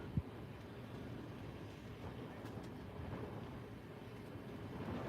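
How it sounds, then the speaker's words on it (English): Gusty wind buffets the microphone outdoors near the SpaceX Starbase launch site in Boca Chica, Texas, a steady broadband rumble with slight swells, continuous and fairly loud throughout. "Kind of getting some gusts of wind right now too."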